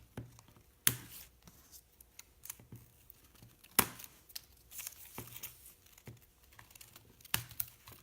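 Scissors snip pieces off a Chalk Couture monogram pallet sign, making a few sharp, spaced clicks and crinkles against quiet background rustling, close up with no speech.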